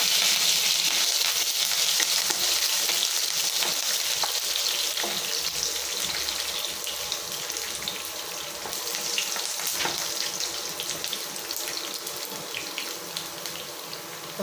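Curry leaves frying in hot oil in a pan for a taro root kuzhambu, a dense continuous hiss and crackle like running water, steady and close throughout, no talk.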